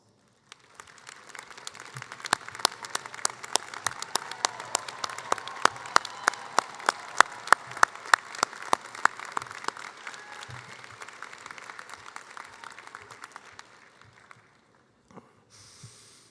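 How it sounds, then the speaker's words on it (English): A medical school commencement audience applauds, a long continuous round of many hands that starts abruptly, holds steady and loud for about thirteen seconds, then thins to a few last claps before fading out. "I would ask the family, friends, and loved ones to stand for a well-deserved round of applause"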